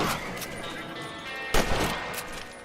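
Rifle shots in the Red Dead Redemption western game, a couple of sharp loud cracks standing out over a busy background of game sound and voices.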